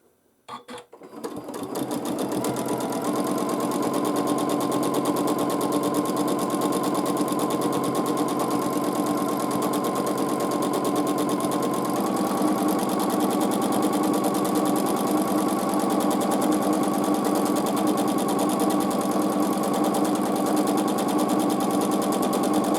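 A sewing machine hums continuously and evenly through free motion quilting, starting after a brief moment of quiet and holding a steady, close drone without pause.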